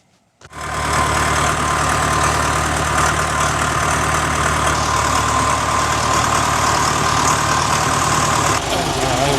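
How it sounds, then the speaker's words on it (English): A John Deere 2030 tractor engine idles continuously with a low rumbling drone, loud and close, before the sound changes near the end. "I'm going to shut the tractor off to hook up the PTO"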